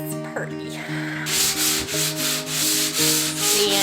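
Sandpaper rubs over a plaster recirculating hood vent in quick rhythmic back-and-forth strokes, close and fairly loud, following a brief moment of background music.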